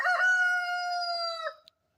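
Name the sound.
chicken in a backyard coop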